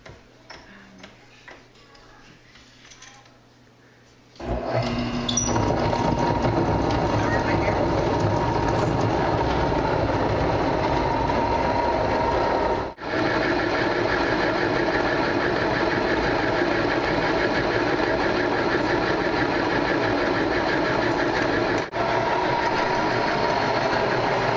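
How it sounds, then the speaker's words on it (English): A stone grain mill starts up after a quiet stretch, its rotating top stone crushing grain into flour with a loud, steady mechanical roar and rapid rhythmic ticking that runs on without pause. "one of the stones on top rotates and crushes the grain into flour"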